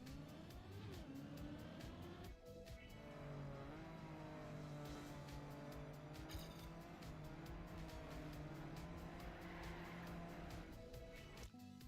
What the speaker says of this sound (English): Rally car is pretty unforgiving.